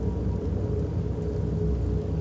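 Rain and thunder in the horror video game Fears to Fathom: a steady, dense rumbling rain wash with low thunder grumbling underneath, continuous and fairly loud with no pauses.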